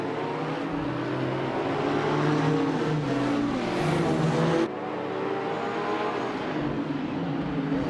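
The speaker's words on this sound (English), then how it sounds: "the race just kicked off at Albert Park, and leading the pack is Bot Yama Priest in a 28 Lamborghini Murcielago" A 2008 Lamborghini Murcielago races at Albert Park in a video game, its engine a loud, steady roar that rises and falls in pitch as it accelerates, continuous throughout with no voices.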